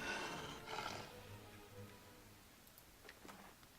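A wolf snarls and growls in a fight in the video game Pillars of Eternity, with a rough snarl at the start that fades into lower growls and faint scuffling.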